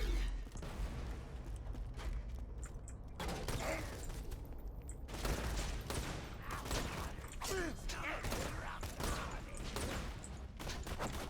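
Borderlands video-game shotgun fire, loud blasts in a busy, dense mix of game effects and clatter running throughout, with a voice occasionally present.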